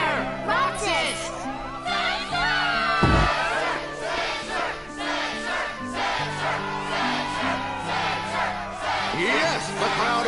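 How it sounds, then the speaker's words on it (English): A video game crowd at a Kingdom Hearts 2 struggle tournament roars and cheers loudly and continuously, with shouts and battle cries layered over music and voices. "the crowd is fired up"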